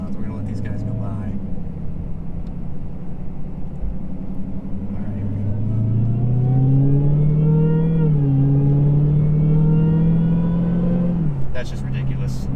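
A 2022 Dodge Challenger Hellcat Redeye on the road gives a deep engine rumble that climbs into a sustained rising rev before easing off, heard up close and loud.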